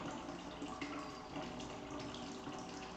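Water running into the gutter channel of a small hydroponic system model, a steady, moderately quiet faucet-like flow with an even splashing hiss and no talking.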